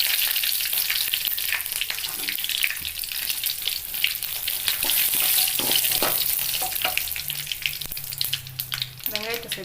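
Dried chillies and curry leaves fry in oil with already-popped mustard seeds. A loud, continuous crackling sizzle runs with busy spattering and occasional stirring scrapes, and no one speaks.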